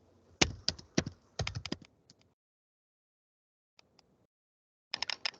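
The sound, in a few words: typing on a computer keyboard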